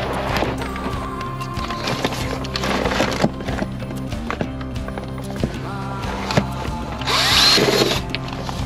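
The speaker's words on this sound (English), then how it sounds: "I need to drill another hole about here" A power drill bores a hole in a step van's gas locker, short uneven bursts of motor whine and grinding, fairly close, with a louder, higher-pitched burst near the end.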